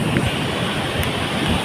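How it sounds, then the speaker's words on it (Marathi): Torrential monsoon rain with strong wind beating across open ground during a village flood, a dense, steady roar of broadband noise and gusts, loud and continuous throughout with no talking. "लय असा खतरनाक पाऊस पडलेला आहे."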